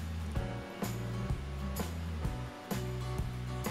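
An electric mixer beats steamed sponge cake batter after milk is poured in, holding a steady whirring drone with rhythmic pulses about every half second as the beaters cycle, close and continuous with no talk.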